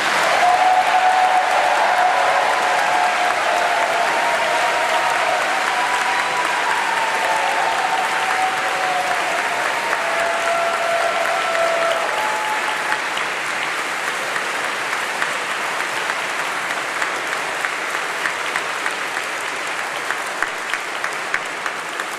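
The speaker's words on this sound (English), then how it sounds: "I think that deserves a round of applause." Sustained applause from a large audience at a university graduation ceremony congratulating new graduates, steady dense clapping that fills the hall for over twenty seconds and thins slightly toward the end, with faint voices beneath.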